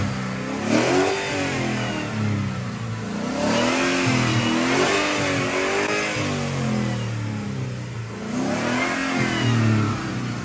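A car engine revs hard repeatedly after starting, rising and falling in three or four strong surges of throttle, close and loud with no talking over it.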